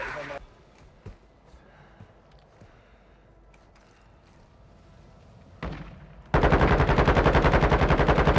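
Gunfire in a Call of Duty: Warzone match: scattered distant shots and mechanical clicks over low ambience, then a sudden loud, sustained burst of rapid automatic fire close by.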